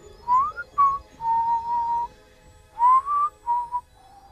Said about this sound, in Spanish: un silbido detrás de ti